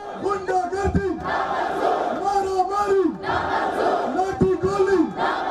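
A large protest rally crowd in the streets of Lahore, Pakistan, chanting slogans in loud rhythmic waves that rise and fall over a constant crowd roar.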